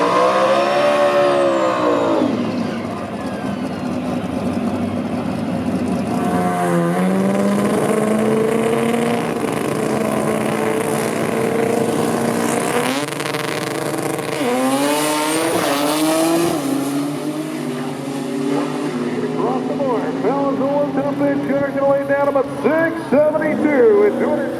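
A Mustang drag race car with a 400-inch small block Ford races past at an import versus domestic event, loud engines screaming and revving up and down over a steady roar, with voices talking over it.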